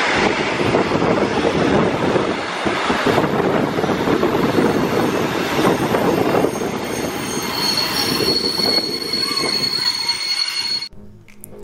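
A Balaton Express passenger train in Hungary rumbles along steadily with wheels squealing on the rails and wind buffeting the microphone, then the noise cuts off abruptly.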